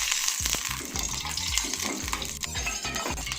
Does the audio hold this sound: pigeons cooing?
no